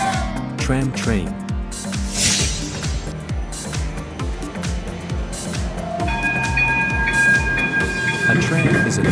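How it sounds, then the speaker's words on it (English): A tram rolls past nearby with rhythmic clattering over the rails and a rising mechanical whine, loud and continuous throughout. "A tram is a type of light rail vehicle commonly used in urban city centers"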